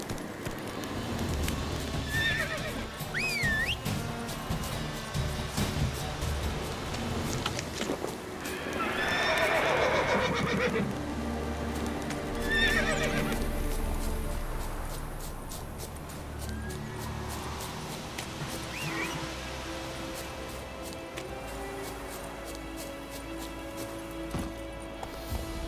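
Roach, the horse in The Witcher 3, gallops with a rapid, continuous hoof clatter and lets out several loud neighs and whinnies over game music and ambience.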